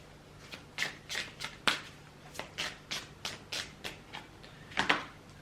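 Tarot cards are shuffled by hand close up, with a steady run of crisp riffling bursts about twice a second and no talk.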